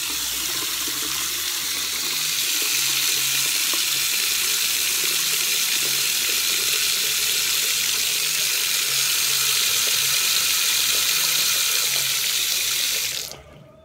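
Tap water runs steadily and loudly into a sink and drains, a constant rushing wash that cuts off abruptly at the end.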